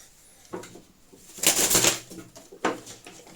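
A sport pigeon, a hen bird, gives a few soft coos close by, in three short bursts with the middle one longest, with a rustle like wings shifting between them.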